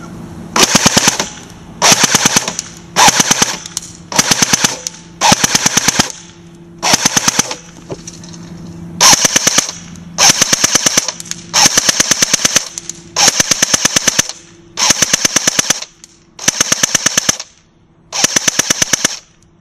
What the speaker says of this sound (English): now we're going to be shooting fully automatic on this target